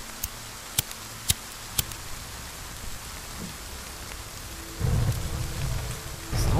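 Steady hiss of rain in the video game The Forest, a continuous wash with a few sharp cracks early on and louder rumbling bursts near the end, with no talking.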